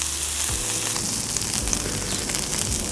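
Pre-cooked potatoes for corned beef hash fry in a pan with a steady, close crackling sizzle, a few stirring scrapes breaking through, no voices.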